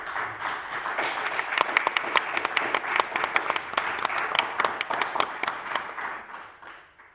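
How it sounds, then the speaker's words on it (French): A theatre audience applauds after a stage performance, lively clapping with sharp individual claps standing out, then fading away toward the end. "alors on peut l'applaudir aussi"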